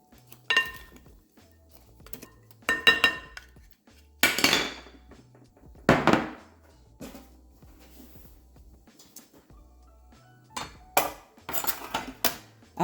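Roasted vegetables tossed in dressing in a bowl make a series of clinks and scraping clatters of utensils against the bowl, coming in short irregular bursts separated by quiet pauses.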